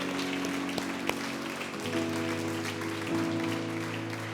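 Church congregation applauding during a Spanish-language worship service, a steady wash of clapping with a sustained musical tone underneath, fairly loud and continuous throughout.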